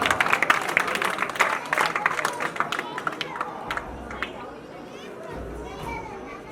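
Applause from a school retirement-programme audience for the girls who sang the Saraswati Vandana, a burst of many hands clapping amid crowd chatter and children's voices, fading into a murmuring room.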